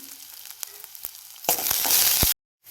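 Crushed mustard seeds and masala hit hot oil in a pan for lemon rasam, a sharp, loud sizzle bursting up after a few soft taps and lasting under a second before cutting off.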